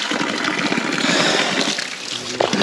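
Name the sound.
water flowing from a natural spring waterfall in the Himalayas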